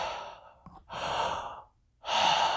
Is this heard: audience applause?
no